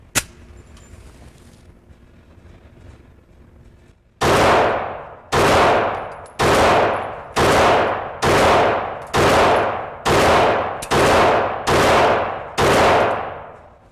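Nine sharp 9mm shots from a Caracal handgun ring out loud and close in an evenly spaced string, each crack followed by a short decaying echo, after a few seconds of quiet outdoor ambience.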